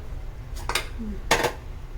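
A metal cooking pot set onto a kitchen stove gives two short, close clanks a moment apart over a low background hum.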